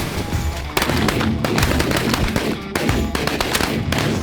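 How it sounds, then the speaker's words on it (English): Loud shotgun blasts during a Kansas mallard duck hunt, with two or three booming reports in quick succession that ring out over a noisy background. "I shot a hen too."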